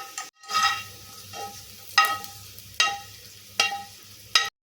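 Roasted coconut is mixed into rice flour batter for a traditional Kerala rice cake, heard as about five sharp, evenly spaced scraping strokes over a quiet background with no speech.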